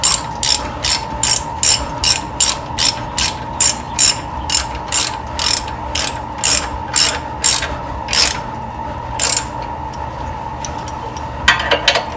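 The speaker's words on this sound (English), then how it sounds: "I'm going to use the 19 and the ratchet." A ratchet with a 19 mm socket turns a bolt while installing a Blue Ox baseplate on a 2002 Silverado, clicking rapidly and rhythmically, loud and close, in a long steady run of metallic ticks that slows and stops.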